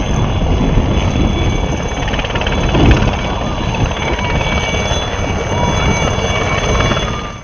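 An Indian Air Force helicopter setting down in a farm field near a village after a minor technical fault during training, its loud, steady rotor and engine roar filling the whole stretch without talk.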